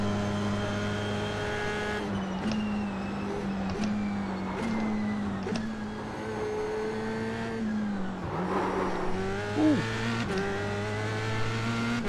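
Formula 3 race car engine in iRacing at Bathurst, a steady high-pitched whine rising and falling through gear shifts and revs, close and continuous for the whole stretch with brief tire squeal.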